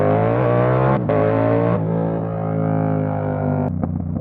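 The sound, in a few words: Yamaha R7 motorcycle revving for a wheelie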